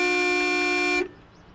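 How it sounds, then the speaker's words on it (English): A car horn blares in one loud, steady sustained honk for about a second, then cuts off abruptly, leaving only faint background noise. "What are you honking about?"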